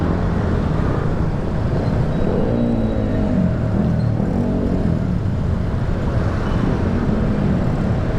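Traffic on a road under construction near Malolos, Bulacan, where only light vehicles are allowed, makes a continuous low engine rumble and road drone. The sound is steady and fairly loud, with no voices.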